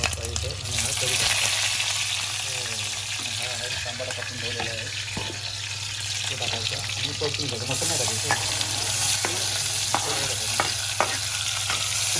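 Onion sizzles steadily in a hot pan for a clam curry while a spoon stirs and scrapes through it, a loud, continuous frying hiss with repeated rhythmic scrapes.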